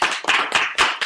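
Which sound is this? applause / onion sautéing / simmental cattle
applause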